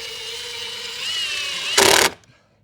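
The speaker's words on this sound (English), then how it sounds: "Let's see if we can get the big screws in." A power driver spins big screws into a solar build off-grid setup, a whining motor that rises in pitch as it bites, then a short harsh burst before stopping abruptly into quiet.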